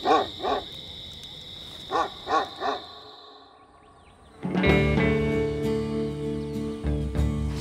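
Dog barking near a camp on a journey crossing Russia to Iran, several separate barks in two short bursts, moderately distant, then a louder steady rumbling noise takes over.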